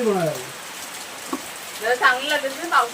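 A heavy downpour pours steadily on a village house, a constant rushing hiss beneath people talking.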